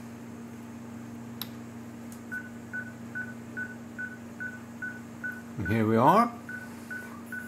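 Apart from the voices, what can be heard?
caller ID (CAID) signal tones on loudspeaker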